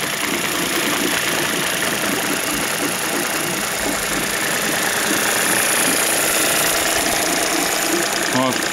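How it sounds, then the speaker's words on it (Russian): A 2006 Suzuki DF50 outboard motor with 297 hours idles close up, its faulty idle air valve making a steady rhythmic knocking through the continuous engine drone, with someone talking over it. "Вот, стучит, слышите, клапан холостого хода"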